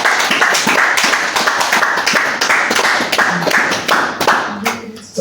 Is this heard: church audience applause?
yes